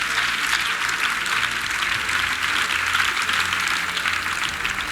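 A church congregation at a salvation and healing weekend service in Yopougon bursts into sustained, dense applause as a clap offering, loud and continuous with no pause.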